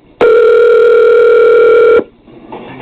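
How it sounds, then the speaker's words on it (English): A steady telephone dial tone sounds loud and close for nearly two seconds while calling a U-Haul rental place, then cuts off, leaving faint room noise. "We call a U-Haul place."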